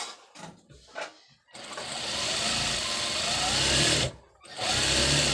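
A sewing machine double-stitches a seam on trousers, starting with a few short stuttering bursts, then running steadily and close for a couple of seconds before a brief stop and another sustained run.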